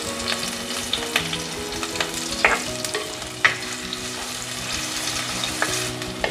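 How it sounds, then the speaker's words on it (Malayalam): Shallots, ginger, garlic and green chillies sauté over lowered flame in a pan for a fish curry, giving a steady close sizzle broken by scraping stirs and a few sharper clinks, with no talking. "ഫ്ലെയിം ഒന്ന് കുറച്ച് വെച്ചതിന് ശേഷം നന്നായിട്ട് ഇതൊന്ന് വഴറ്റിയെടുക്കണം."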